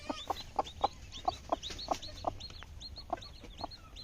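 Hens on a farm at night give a close, quiet series of short rhythmic clucks, about a dozen evenly spaced calls over a faint background.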